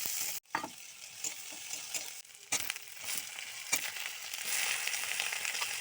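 Chillies, bay leaf and panch phoron spices fry in oil for a bottle gourd greens curry, giving a close, steady sizzle with scraping stirs and occasional sharp crackles and pops.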